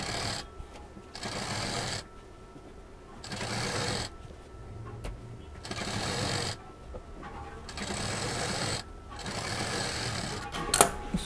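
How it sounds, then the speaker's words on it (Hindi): A sewing machine stitches a reversible cloth shopping bag in a series of about five steady, whirring runs of several seconds each, separated by short pauses, loud and close with no talking. "अब इसको पूरा राउंड शेप में सिल देंगे इन दोनों को मिलाते हुए।"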